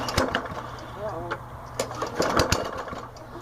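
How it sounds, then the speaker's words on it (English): A lawnmower engine sputters and coughs while failing to start, giving a few uneven bursts and knocks that die away, recorded up close, with a couple of short vocal sounds mixed in. "Darn lawnmower doesn't want to start."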